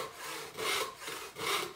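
A Simonds Perfection crosscut saw cuts through wood in steady back-and-forth strokes, about three rasping pulls in under two seconds, close up and moderately quiet with no talk.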